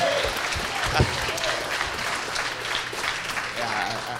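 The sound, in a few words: wedding guests applauding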